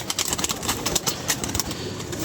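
A pigeon kept by a rooftop pigeon fancier coos in a soft, low burble under busy outdoor ambience, the calls repeating irregularly at moderate distance across the short stretch.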